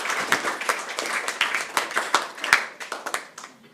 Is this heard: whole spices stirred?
no